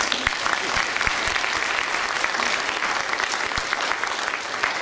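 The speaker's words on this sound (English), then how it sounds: "Let's give all of them a round of applause." Dense, steady applause from an audience at the IMESS 2017 industry event, filling the whole stretch at an even level with scattered sharp individual claps.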